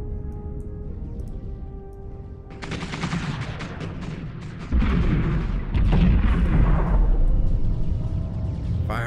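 Missiles launch in a space battle in the Homeworld 2 strategy game, with a sudden burst of rapid crackling fire that grows into a dense, loud barrage of booming blasts and whooshes.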